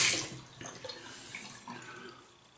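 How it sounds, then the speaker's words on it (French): Tap water runs softly as lather is rinsed off during a traditional shave, a faint, steady gurgle and splash close by with no voices. "Rincer un peu vite."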